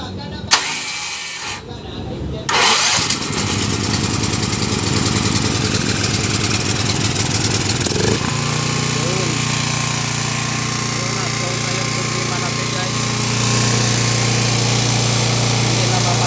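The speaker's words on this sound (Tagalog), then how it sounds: "Yung generator at saka tuloy-tuloy na yung andar niya kasi tama na yung oil niya." Small gasoline generator, just refilled with oil to proper capacity and restarted on choke, cranks and catches, then runs steadily with a loud, continuous buzzing drone up close while someone talks over it.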